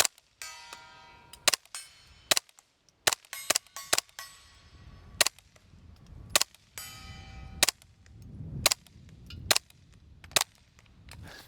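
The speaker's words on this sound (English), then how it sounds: "Let's just do some shooting, see if we can actually see them on this bright sunny day." An H&K G36 rifle in .22LR firing tracer rounds outdoors on a sunny day, a string of sharp, cracking shots at irregular intervals, some in quick pairs, each followed by a short ringing decay.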